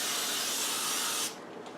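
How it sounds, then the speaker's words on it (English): A can of flour-and-oil baking spray coats a cake pan for a chocolate cake with one close, steady hiss that stops abruptly after about a second and a half. "I'm using a spray that has the flour and the oil already there, and I'm just spraying it down really good."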